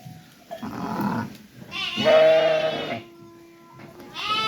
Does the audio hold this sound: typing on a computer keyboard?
no